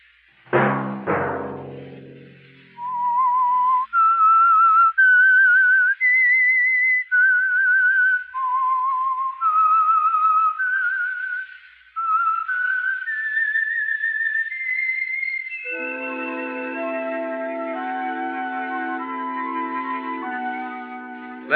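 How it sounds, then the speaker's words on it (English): A single person whistles a slow melodic tune, the signal theme of the radio drama The Whistler, clear and sustained, then a fuller instrumental chord section swells in behind it. "Let that whistle be your signal"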